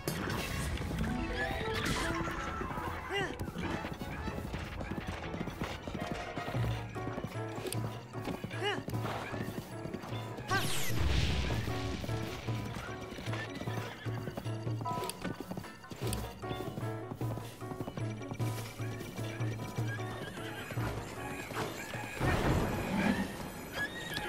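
A horse in Zelda: Breath of the Wild whinnies and gallops with rapid clip-clop hoofbeats amid game effects and a steady low musical drone, the sound staying busy and fairly loud throughout.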